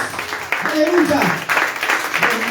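A church congregation claps and applauds for the Lord during a sermon, a broad wash of clapping mixed under a preacher's voice speaking throughout.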